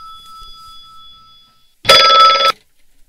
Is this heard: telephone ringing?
yes